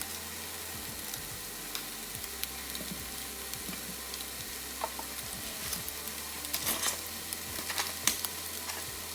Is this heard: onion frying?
yes